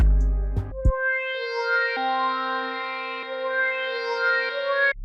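A synth lead in FL Studio processed with half-time, delay and EQ, sounding warped and lower with chorus-like shimmer and echoing sustained notes after a brief burst at the start, alone.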